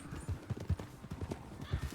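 Horse hooves clip-clopping at a steady walking pace in the Western game RedM, with close, rhythmic thuds and no talk.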